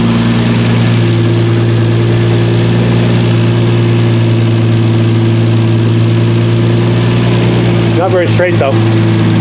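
A 1976 Triumph TR6 engine, with a fuel leak, idles steadily and loudly close by, its low droning hum unbroken throughout, while someone speaks briefly near the end.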